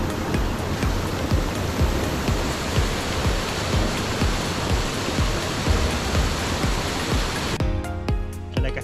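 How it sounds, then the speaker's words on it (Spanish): Hermosa cascada in the Alto Biobío mountains near Laguna El Barco, a dense, steady roar of falling water close by, broadband and constant until it cuts off near the end. "No se pierdan esta hermosa cascada."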